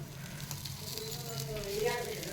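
Paneer cutlets frying in oil on a tawa give a soft, steady sizzle at low volume, continuous throughout with faint crackles and no clear talk over it.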